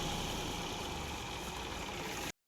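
A tractor engine idles with a steady low rumble, constant and fairly close, cutting off abruptly at the end.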